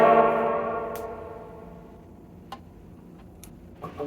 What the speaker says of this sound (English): Sounds really nice though. Plate reverb. I like plate reverb.